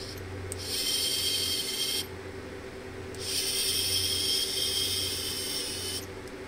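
A Zimmer orthopedic drill motor under repair runs in close, high-pitched whining bursts of a second or more, switching on and off repeatedly over a steady background hum.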